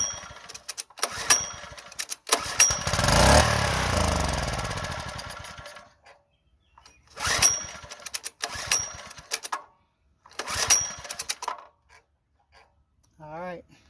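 A Homelite 79cc edger, just given a recoil repair and carb clean, is jump-started. Sharp rattling pulls give way to a few seconds of rough, sputtering running, followed by further short mechanical bursts.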